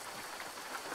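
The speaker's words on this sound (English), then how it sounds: "the daggum rain's coming in" Steady rain hisses in American Truck Simulator, an even, dense wash of drops falling on a surface at a rest stop, with no other sounds over it.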